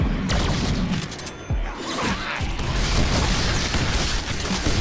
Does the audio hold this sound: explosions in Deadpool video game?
yes